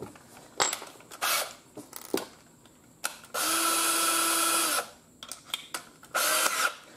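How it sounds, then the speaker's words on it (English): A handheld power drill fitted with a 3/8 inch Forstner bit bores holes into a fishing lure body, sounding in short bursts and one sustained whine amid clicks and handling noises. "Now we can start drilling holes for lead."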